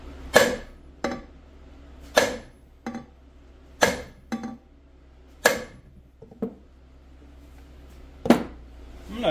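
A bigger hammer whacks a magneto puller on a Skidoo Rotax 617cc engine, giving loud, close metallic strikes spaced about a second or two apart, with a few lighter taps in between and a low hum beneath.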